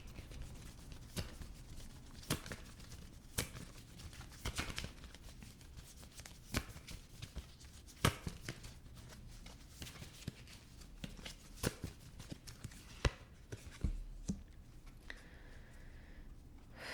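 A Gypsy tarot deck is shuffled close and softly, with repeated quiet riffling and tapping bursts at an irregular rhythm against faint room noise, and no talking.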